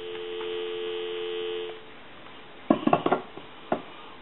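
A steady electronic dial tone from a Thomas wood wall telephone on a regular line hums for about two seconds, then stops, followed by a few sharp clicks and clatters from handling the phone.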